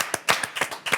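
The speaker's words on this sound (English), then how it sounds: "Round of applause" A brief burst of hand clapping from a few people in a podcast studio, about half a dozen quick, close claps within a second.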